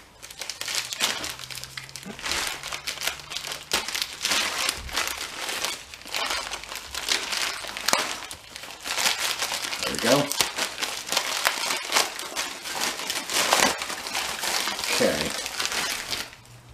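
Packaging from a mailed package of DVDs and video games crinkles and crunches as it is torn open, in repeated close, loud bursts, with a voice speaking now and then.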